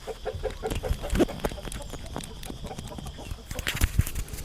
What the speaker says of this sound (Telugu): ఇది పెద్ద కోడి